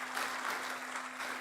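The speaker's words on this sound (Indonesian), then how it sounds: "Kita berikan tepuk tangan yang meriah beliau." Audience applause for Professor Dr. Satya Arinanto, the promoter at a doctoral graduation ceremony, a steady dense wash of clapping with a faint constant hum underneath.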